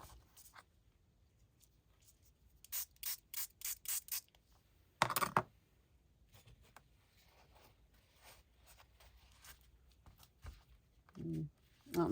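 A spray bottle of cleaner is pumped onto a rubber stamp to lift ink: five short hissing bursts in quick succession, then a longer, louder spritz, each close and crisp amid quiet background shuffling.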